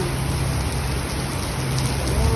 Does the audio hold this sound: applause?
no